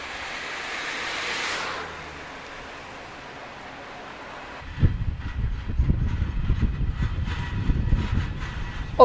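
A three-car train set passes at Herzogenrath station, beginning with a fading hiss and then swelling into a loud low rumble of wheels and rail clatter as the cars roll by close.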